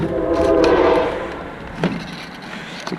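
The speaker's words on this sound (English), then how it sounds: "Excuse the train, guys," A train rolls past outdoors with a loud horn blast at first, the blare fading into a rumbling clatter of rail cars, with a few knocks near the end.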